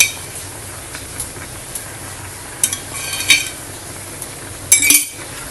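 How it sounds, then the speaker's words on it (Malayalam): Spoon stirring sweet payasam with sugar in a pot in a home kitchen, soft scraping under a low background hiss, broken by a few sharp metallic clinks and taps toward the end. "ഇതൊന്ന് ഇളക്കി എനിക്ക് തരാം കേട്ടോ"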